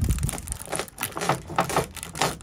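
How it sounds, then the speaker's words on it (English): Crinkly snipping and rustling as scissors cut through a stiff sheet of sound deadening material for a VW Transporter 6.1 van, several cuts in a loose rhythm, close up. "Cuts nice and easy with a sharp pair of scissors."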